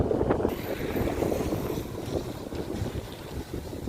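Heavy, humid wind in Artvin, Turkey buffets the microphone with low, uneven rumbling gusts, loud and close, no voices present.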